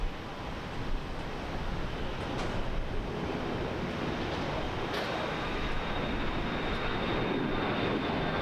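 A JetBlue airliner takes off from runway 10 right at Fort Lauderdale airport. A broad, steady jet roar holds for the whole stretch without voices.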